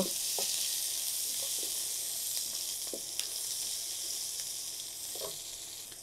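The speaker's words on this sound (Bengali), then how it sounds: "রসুন কুচি দিয়ে দিব" Chopped garlic fries in hot oil with a steady, even sizzle that runs throughout, broken by a few soft clicks from stirring. No one speaks.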